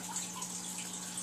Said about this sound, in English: that's a waterfall and your lake right there